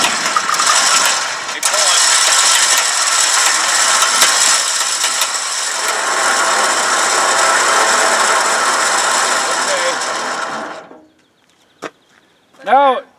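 A Warn winch cable is pulled out with the clutch engaged, making a loud, continuous mechanical ratcheting close by for about ten seconds before it stops abruptly. A few brief squeaky sounds follow in the quiet.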